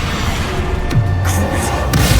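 A Bombarda explosion spell goes off in the video game Hogwarts Legacy as a loud, deep booming rumble filling the whole moment, with short thuds layered on top.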